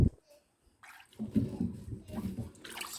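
Whole beetroots, the bigger ones first, go into a pot of water with dull knocks and sloshing, splashing water. The sounds are close and moderately loud.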